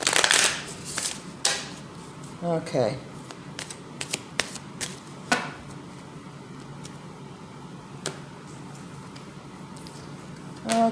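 Cards are shuffled and riffled in repeated crisp bursts and flicks, with a brief spoken word near the start.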